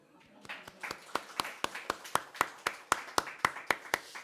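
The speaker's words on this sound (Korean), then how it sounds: "여러분 박수" Clapping at a Korean church sermon on child-rearing: a single steady run of about sixteen evenly spaced, fairly close hand claps in a rhythmic beat, with no voices.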